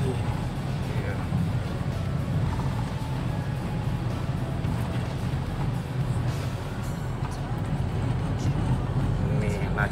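A 2006 Toyota Innova's engine drones steadily in fourth gear while climbing uphill, a continuous low rumble heard from inside the cabin with road noise, and someone talking over it.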